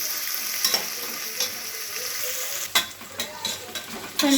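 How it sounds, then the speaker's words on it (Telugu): Spices and fresh coriander fry in hot oil for Telangana bagara rice, giving a steady close sizzle broken by a few sharp scraping stirs of a spoon against the pan. "ఇవన్నీ కొంచెం ఫ్రై కావాలి ఫ్రెండ్స్"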